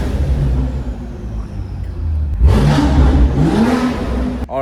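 A tuned Hyundai Elantra N's new exhaust rumbles at idle, then roars through a couple of hard revs that echo loudly off enclosed concrete parking garage walls, ending in a sharp crackle.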